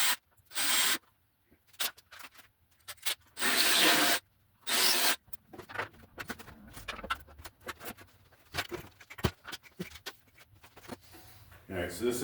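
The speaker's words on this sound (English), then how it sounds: "I'm going to get the spot weld cutter out, get that dealt with first" A spot weld cutter bites into truck sheet metal in bursts of harsh, gritty drilling, the loudest passes separated by quiet gaps, followed by scattered scraping and tapping handling noises close by.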